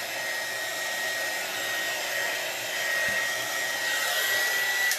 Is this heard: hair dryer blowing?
yes